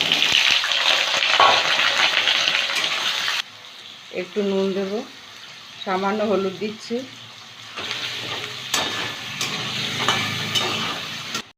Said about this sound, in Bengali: প্রথমে আলুটা ভেজে নেব। কড়াইতে সর্ষের তেল গরম করে নিয়েছি।